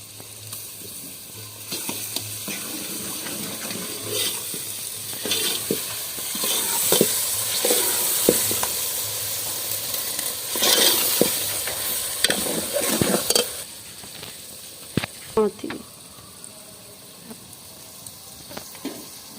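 Steady sizzling of crushed ginger and garlic frying in a hot pan with frequent stirring and scraping clatter, continuous throughout with no talking.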